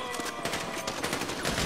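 Rapid automatic gunfire in the video game Grand Theft Auto 5 during a shootout escape, a dense, loud, continuous rattle of shots filling the whole stretch.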